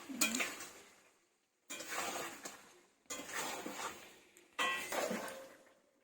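Mutton curry being sautéed in a pan, heard as four separate bursts of sizzling and stirring, each starting sharply and fading, with short quiet gaps between them.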